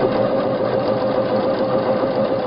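A sewing machine runs a continuous topstitch around the top of a tote bag, holding its lining down, with a loud, steady, unbroken motor whir and rapid needle chatter, close up and without pause, no talking.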